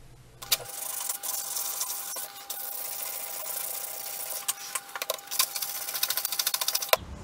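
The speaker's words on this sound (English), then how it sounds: "I went up in grades with the wet and dry from 400 to 600 and I had a quick rub over with 1200" Wet and dry sandpaper, stepped from 400 up to 1200 grit, rubbed over the back of a rusty steel chisel, giving a steady close scratching rasp that turns into quick rhythmic strokes near the end.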